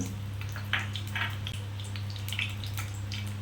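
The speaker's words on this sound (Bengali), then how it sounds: "আমি কালো জিরে একটু ফোড়ন দিলাম" Nigella seeds tempering in hot oil in a pan for potol bharta give a soft, steady sizzle with scattered faint pops and crackles, over a low constant hum.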